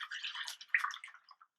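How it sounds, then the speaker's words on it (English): Milk pours from a measuring cup into a plastic baggie for homemade ice cream, a short, close, trickling splash of liquid lasting just over a second. "we're going to take a cup of milk and we're going to pour it"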